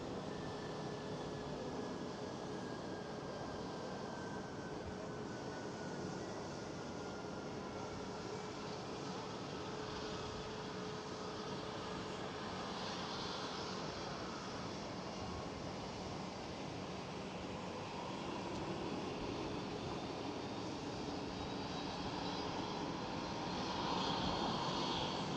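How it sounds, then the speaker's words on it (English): An Airbus A350 airliner departs Amsterdam Schiphol with a long continuous jet rumble and a slowly rising engine whine, steady and fairly distant, building a little louder toward the end. "Right on time for the world to fly Airbus A350"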